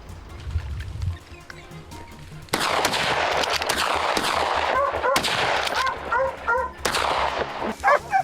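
Rapid gunfire at a fleeing herd of wild boars on open farm terrain, loud sharp bursts and repeated shots cracking out after a quieter opening, with echoes and some background noise between volleys.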